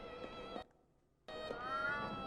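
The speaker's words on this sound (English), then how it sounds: "And that there was a cat." A cat in Alice Madness Returns gives two meows separated by a short silence, the second drawn out and rising, fairly clear and close.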